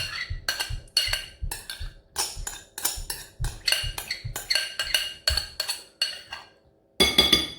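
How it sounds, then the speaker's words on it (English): A whisk beating a chocolate lasagna mixture in a bowl, giving quick, evenly spaced clinks and scrapes in a steady rhythm that pauses briefly near the end before starting again, close up with no talking. "Now I'm gonna whisk this."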